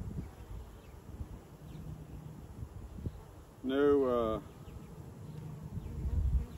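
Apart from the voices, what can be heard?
honey bees buzzing around open hives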